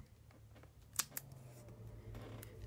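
A few sharp snips of scissors trimming the edges of a water base for a naval miniature, with a couple of crisp metallic clicks over quiet room noise.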